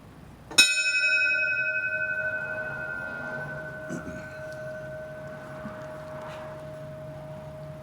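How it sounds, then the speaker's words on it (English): One bell strike rings out at a firefighter graduation ceremony, a sharp clang whose bright tone hangs and slowly decays over several seconds in a quiet hall. "we mark the beginning of the journey for these young firefighters with the single ring of a bell"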